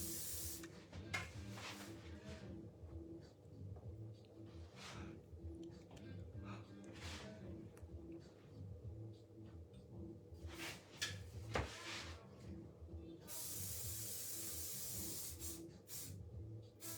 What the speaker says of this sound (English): it's using a bit of spray just to get rid of those flyaways